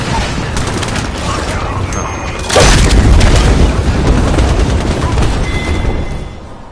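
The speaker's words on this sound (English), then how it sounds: "Look out, grenade." Grenade explosion in the video game Apex Legends: a heavy, loud boom breaks in over ongoing gunfire and game noise, and the rumble lingers for several seconds before fading.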